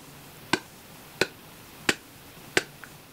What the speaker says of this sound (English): That's just the click of the release of that air, just from my tongue moving in my mouth.